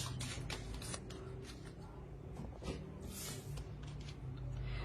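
Small oracle cards of elemental beings being shuffled and riffled, crisp papery flutters over steady background noise, close and fairly loud, with a voice speaking briefly partway through.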